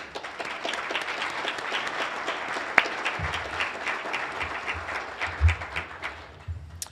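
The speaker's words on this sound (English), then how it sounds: "Please join me in a warm round of applause for all of them." Sustained audience applause at a civic club luncheon forum, dense steady clapping from a large crowd throughout, with a few low thumps underneath.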